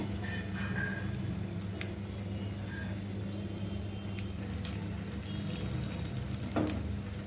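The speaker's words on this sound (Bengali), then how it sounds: "এটা ভাজতে হবে, নাহলে এক এক সাইড পুড়ে যাবে" Chicken donuts of batter and dough frying in hot oil at home, a steady low sizzle and bubbling that runs throughout with a few faint clinks and stirring touches, no voices.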